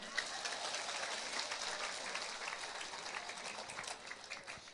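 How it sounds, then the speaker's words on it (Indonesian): Listeners at an Islamic talk by a female preacher on charity give faint, distant clapping, a soft, continuous patter of many hands that lasts throughout. "Tepuk tangan dulu dong"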